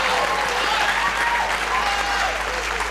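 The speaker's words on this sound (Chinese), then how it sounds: "来掌声鼓一鼓" A studio audience at a Taiwanese quiz show bursts into loud, sustained clapping that fills the room evenly from start to finish.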